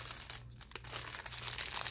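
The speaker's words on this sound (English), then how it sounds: "I'm taking everything out of the package, so ASMR." Plastic packaging crinkles as a Canon Rebel camera is unpacked, a close, soft, continuous rustling with a brief pause near the middle and no voices.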